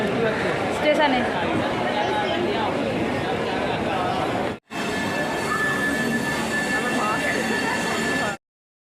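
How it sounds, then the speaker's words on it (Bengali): A train rumbles and clatters steadily nearby amid a busy crowd's chatter, with a faint squeal of wheels, then a brief cut and more rolling noise. "আমাদের ট্রেন ঢুকছে, ট্রেন দিয়ে দিয়েছে স্টেশনে"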